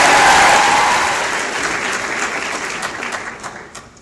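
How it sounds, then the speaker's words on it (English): Loud, rousing applause from a crowd welcoming the incoming veterinary class of OVC 2016 at a professional welcome ceremony, dense clapping that peaks at the start and gradually tapers off over several seconds. "That is the most rousing round of applause I have ever heard."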